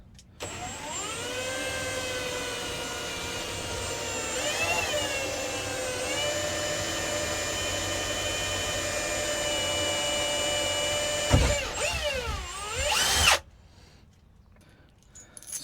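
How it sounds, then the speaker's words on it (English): A power drill with a quarter-inch bit bores out bolts during a boat console install, giving a steady high whine that holds for about eleven seconds, bogs and changes pitch under load, then stops abruptly. "now I got to drill them out. Just gonna do it with a quarter bolt or a quarter bit."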